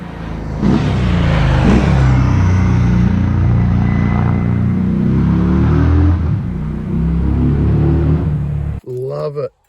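A Harley-Davidson Sport Glide motorcycle engine runs loud and close with a deep, steady throbbing rumble for about nine seconds, then cuts out abruptly near the end.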